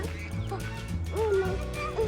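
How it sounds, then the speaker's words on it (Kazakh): Ducks and other birds at a zoo call back and forth with nasal quacks and honks, a clear rising call standing out near the middle over a busy background of overlapping bird voices. "Құстар бір-бірін шақырып жатыр."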